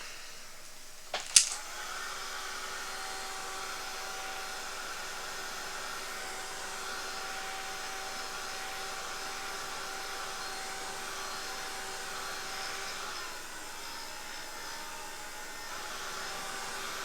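A hair dryer blows steadily on wet paint on a handmade reindeer ornament, switched on with a click and then holding a constant airy whir for many seconds.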